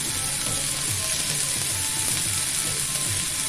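Mixed vegetables sautéing in a restaurant-style pan for a healthy vegetarian stir fry, giving a steady, close, continuous sizzle with faint rhythmic scraping from stirring, and no voices.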